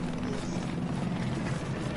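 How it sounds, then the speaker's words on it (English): A helicopter in the video game Battlefield 4 flies with a steady, dense rotor and engine roar, loud and unbroken throughout. "The helicopter."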